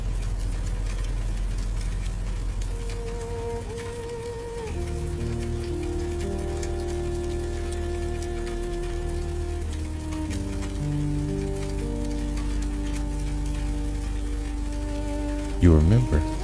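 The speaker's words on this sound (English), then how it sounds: "It is raining for hours." Steady soft rain patters continuously, with a low rumbling hum underneath and a brief louder rustle near the end.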